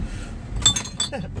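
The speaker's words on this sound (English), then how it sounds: "And a crash. Probably with the other bottle." Glass soda bottles clink against each other inside a car, two or three short bright knocks close by, with faint low road-like rumble underneath.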